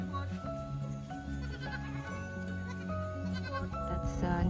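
Goats on a small farm bleat repeatedly in loud, close, overlapping calls, a steady chorus of wavering cries, with people talking alongside.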